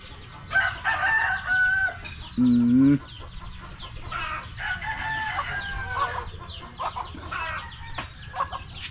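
Several chickens cluck and chatter nearby while a rooster crows once, loud and clear, over a busy background of farmyard birds.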